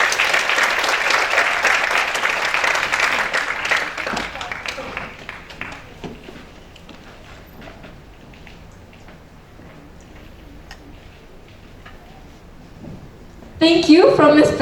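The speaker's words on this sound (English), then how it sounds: "Can you give a big round of applause for them?" Loud, dense applause rolls through an audience at a student awards ceremony, then fades to light scattered clapping and murmuring before a sharp new sound cuts in at the end.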